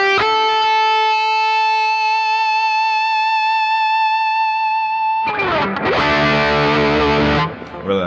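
Sustained electric guitar chord through a tube amp ringing out with heavy overdrive from a Timmy pedal, then a burst of dense, distorted strumming with delay repeats trailing behind.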